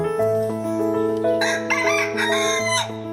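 On a poultry farm, a rooster lets out one loud, close crow that rises and then draws out in a long held note. No other sounds compete with it.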